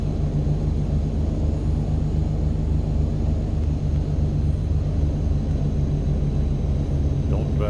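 A small plane taxis on the ground at Juneau airport with a steady, loud low engine rumble that runs unbroken throughout, and no talk can be heard over it.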